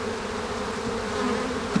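A steady, droning hum of many honey bees buzzing together at the hive, continuous and fairly close, with a slight swell near the end.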